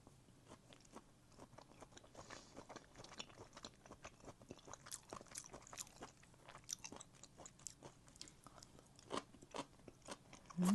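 A scallop dipped in spicy chojang sauce is chewed close to the mic with soft, repeated wet crunches and bites in a steady rhythm, quiet overall and without talk.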